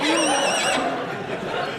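A miniature horse gives a clear, fairly close whinny with a wavering, rising-and-falling pitch, lasting under a second in a comedy audio drama before fading into background noise.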